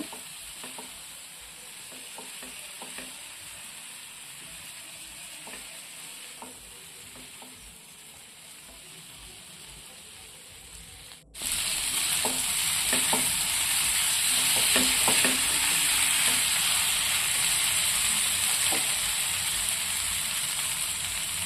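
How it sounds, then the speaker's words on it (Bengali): Fried potatoes are stirred and tossed in a hot pan with steady oily sizzling, scraping of a spoon and soft shuffling, growing louder halfway through and running on without any voices. "এরপর আমি নাড়াচাড়া করব একটু ভালো করে মিশিয়ে নেব"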